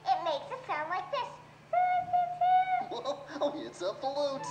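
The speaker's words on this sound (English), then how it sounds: "Oh, it's a flute." A flute sounds a few clear sustained notes in a short pause between lively children's-show voices talking and singing.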